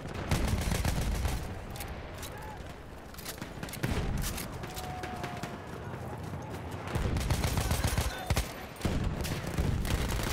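Rapid RSC SMG bursts in Battlefield 1 crack through a busy multiplayer match, loud and close, with repeated volleys and surrounding battle noise and a voice talking over the fire.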